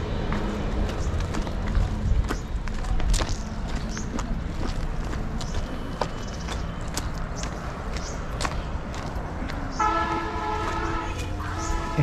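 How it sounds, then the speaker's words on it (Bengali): Amusement-park toy train at a children's park in Naogaon, Bangladesh: a continuous rumbling, clattering run with sharp clicks and horn-like tones, mid-distance and steady, under general outdoor ambience. "এই যেটাই হচ্ছে ট্রেন"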